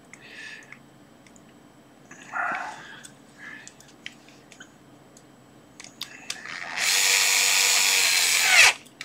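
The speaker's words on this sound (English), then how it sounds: "Let's just tighten up our screws a bit." A power driver tightens screws on a handmade Maker Faire 'Here There Be Makers' badge, whirring loudly and steadily for about two seconds near the end after a few faint, scattered handling clicks.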